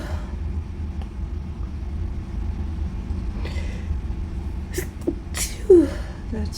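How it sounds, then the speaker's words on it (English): A single person's sneeze bursts out near the end over a low rumbling background, brief and fairly close, with a couple of faint vocal sounds just before it. "I had to sneeze"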